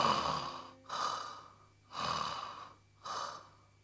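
A voice imitating baby birds snoring in chorus during a storytelling performance, four slow breathy snoring swells in a steady rhythm, close and soft.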